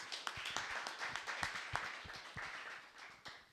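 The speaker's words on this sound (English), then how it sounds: "Let's give them a round of applause" Applause from a small audience at a real estate sales meeting, with distinct individual claps over a steady clapping wash, fairly faint and fading slightly toward the end.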